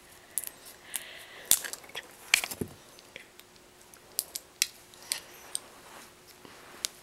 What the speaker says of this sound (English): let's use the scissors